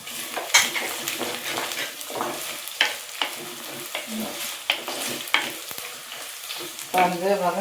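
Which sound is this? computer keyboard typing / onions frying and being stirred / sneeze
onions frying and being stirred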